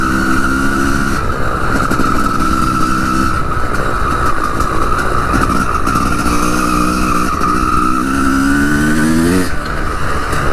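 A Honda CR250 two-stroke dirt bike engine revs loudly and steadily for about ten seconds during an enduro ride, the pitch rising and falling as the rider works the throttle, with no voices.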